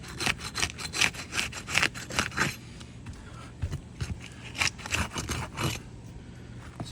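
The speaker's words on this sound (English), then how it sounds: "I'm using a manufacturer improved roofing flat bar, and I'll be using a roofing hammer to complete the repair" A manufacturer-improved roofing flat bar scrapes and pries at a shingle during a roof repair, making repeated rasping strokes in quick bursts, a pause, then another run of gritty scrapes close by.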